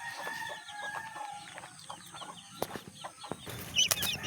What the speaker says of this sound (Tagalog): Ang dami po natin sisiw ngayon.